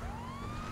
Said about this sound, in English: I'm just going to turn on lights and sirens.